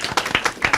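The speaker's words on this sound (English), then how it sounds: "Yeah, clap for him." A short burst of clapping, several sharp claps from a small group at a church service, close by and quickly over.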